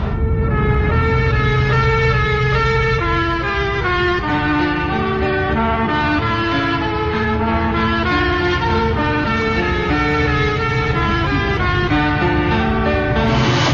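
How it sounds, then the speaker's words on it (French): A continuous, loud wailing siren with rising and falling harmonic tones, sustained without pause for the whole stretch. "écoutez sirène de voiture de police"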